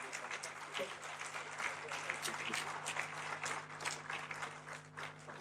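Dense, sustained applause fills a large hall for former President Olusegun Obasanjo at a Republic Day lecture. The clapping stays steady and loud throughout, with a faint electrical hum underneath.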